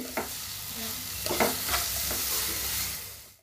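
Carrot halwa gets stirred in hot ghee with fried cashews and raisins, a spoon scraping and turning through the pan over a steady sizzle, with a few distinct stirring strokes close by.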